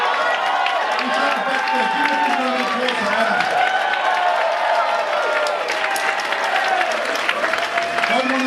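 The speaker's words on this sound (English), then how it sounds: "Give us a round of applause for Adam." An election night crowd gives a round of applause, steady dense clapping mixed with cheering and excited voices, sustained at an even loud level throughout.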